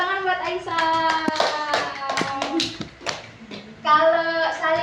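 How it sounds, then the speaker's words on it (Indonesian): Children clapping their hands together in a classroom, several bursts of rhythmic clapping mixed with a tonal voice or singing, fairly close and loud. "Tepuk tangan buat Aisyah"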